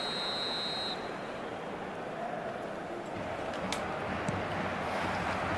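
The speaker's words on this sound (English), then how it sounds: "Whistle goes, and we start the second half." A referee's whistle starts the second half of an eFootball match: a thin, high, steady tone lasting under a second at the very start, over a constant wash of stadium crowd noise that carries on afterwards.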